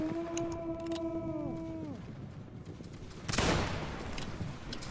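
A musket volley in a Waterloo battle video game, Prussian line infantry firing together: one dense, crackling burst of massed shots midway through, over drawn-out tonal horn-like notes and a steady background din.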